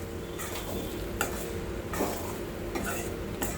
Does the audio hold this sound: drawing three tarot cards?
no